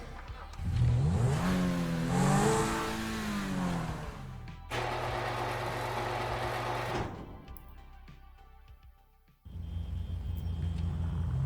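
A Zentorno sports car driven in GTA V, its engine revving up and down in rising and falling sweeps, then settling into a steady drone with abrupt shifts in tone, loud and close throughout with no talking.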